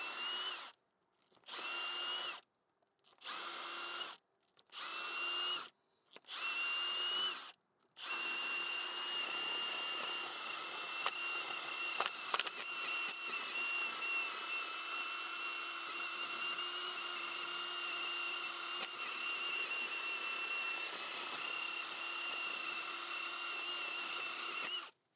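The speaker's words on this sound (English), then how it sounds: "It goes on your regular impact gun and it makes cleaning up this mating surface a breeze." An impact gun fitted with a cleaning attachment scours a wheel hub mating surface, first in several short whirring bursts, then in one long continuous high-pitched whine.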